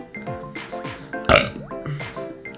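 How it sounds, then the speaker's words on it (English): A single loud burp breaks out midway through a short stretch of video game music and effects from New Super Luigi U, with no talk around it. "I don't know why I burped there."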